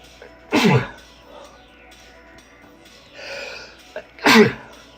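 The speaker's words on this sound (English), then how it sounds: "Ooh, I gotta sneeze." Two sharp sneezes, the first early and the second a few seconds later, each a loud burst standing out against a quiet room with faint background noise.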